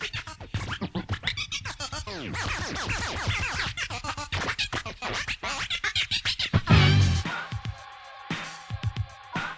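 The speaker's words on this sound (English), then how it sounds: "All this scratching's making me itch." Hip-hop DJ turntable scratching: quick rhythmic back-and-forth swipes and sweeping pitch bends mixed into a beat, dense and energetic throughout.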